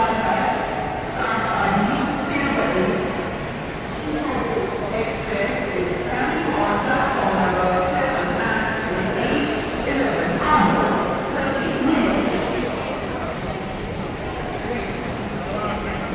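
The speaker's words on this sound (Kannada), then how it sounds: "ಇದು ರೈಲ್ವೆ ಸ್ಟೇಷನ್ನು." Busy railway station concourse at SMVT, with a steady wash of crowd murmur, footsteps and faint mechanical hum, no single sound standing out.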